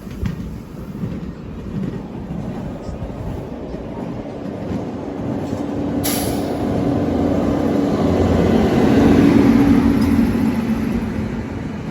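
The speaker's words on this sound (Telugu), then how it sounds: "అదిగోండి బండి మెల్లగా వస్తుంది అటు సైడ్." An Indian Railways passenger train on the Kashmir to Kanyakumari route slowly approaches on the tracks outdoors, its rumble and rattle building gradually from distant to close, with wind buffeting the microphone and no talk.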